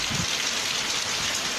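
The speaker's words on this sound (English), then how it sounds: "Just look at these rains." Heavy rain from Hurricane Ida pours steadily in Cuba, a dense, loud, continuous hiss of drops striking surfaces with no talk.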